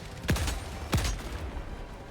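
Two sharp gunshots about half a second apart ring out in a Helldivers 2 or CS:GO 2 firefight, each a punchy crack that fades quickly, followed by quieter background game noise.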